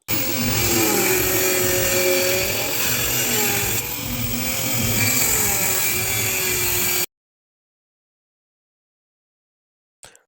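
A tile cutter whines loudly and steadily for about seven seconds as it grinds through ceramic tile, then cuts off into silence.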